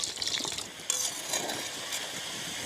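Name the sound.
potatoes frying in a pan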